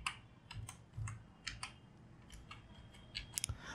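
Keys tapped on a computer keyboard while a username and password are entered, a quiet, close run of irregular clicks with short pauses and a quick flurry near the end.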